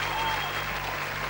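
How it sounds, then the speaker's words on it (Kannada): A studio audience at a Tulu comedy reality show claps for the judge, a loud dense burst of applause heard close by, with a low hum underneath. "ನಮ್ಮನ ಜಡ್ಜ್ಗೆ ಜೋರಾದ ಚಪ್ಪಾಳೆ ತಟ್ಟಡೊಂದು ಕೇನೊಂದುಲ್ಲ"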